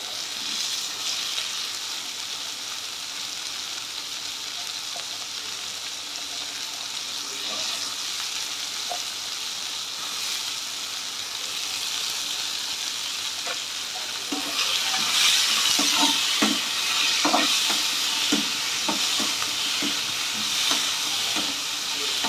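Chopped carrots and beans sizzle in a pan and get stirred. A low, even frying hiss turns louder and brighter with scraping stir strokes near the end. No one speaks.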